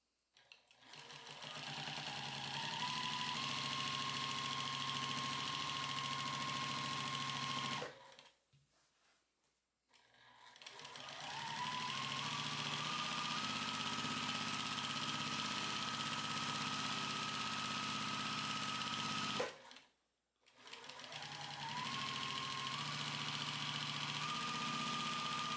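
A sewing machine runs steadily during straight-line quilting, with a continuous mechanical whir and hum in long runs, briefly stopping twice before starting up again.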